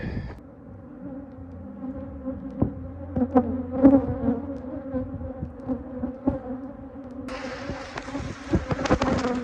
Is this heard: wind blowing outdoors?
no